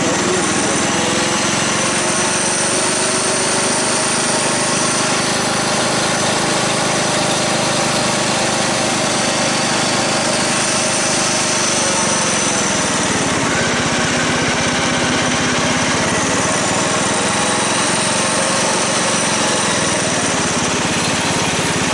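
A Bolens Husky 1050 garden tractor engine runs steadily and loudly throughout, a continuous close-up mechanical drone with slight variations as the choke and throttle are adjusted.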